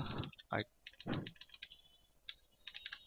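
Keys on a computer keyboard click in quick irregular bursts while typing into an MS Word table, close and fairly faint, interspersed with brief louder bumps.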